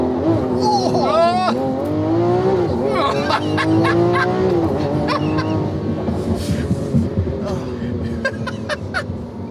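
Lamborghini Aventador Ultimae V12 engine revving hard, rising and falling in loud repeated sweeps with sharp climbing pitch, while people talk over the roaring engine.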